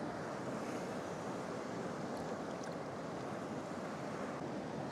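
Atlantic Ocean waves wash steadily around a sea kayak off Slieve League in Ireland, a continuous broadband surf hiss mixed with wind buffeting the microphone, fairly faint and unbroken.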